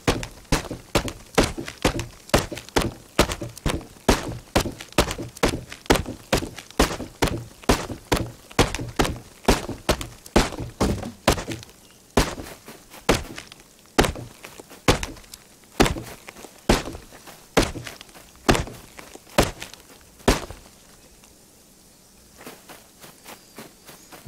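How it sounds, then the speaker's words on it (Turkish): Tree being chopped with a tool in the survival video game Rust: a long run of sharp, evenly spaced wooden thunks, loud and close, roughly two strikes per second, with no talking. "Bu ağacı vururken benim kafaya vurur gibi oluyor ya böyle tak tak tak tak tak."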